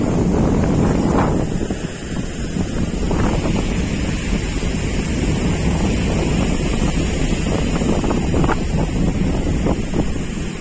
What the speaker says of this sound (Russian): Вот такой шторм сегодня.